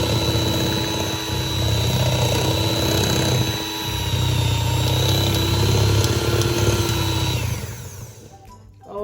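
An electric mixer runs on low speed, blending flour into Victoria sponge batter with a continuous whirring drone and slight wobble in pitch, then cuts off near the end.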